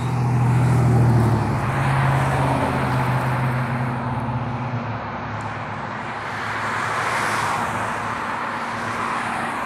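Cars passing on a road at night, a steady rush of tire and engine noise with one louder low vehicle pass near the start, continuous traffic hum throughout.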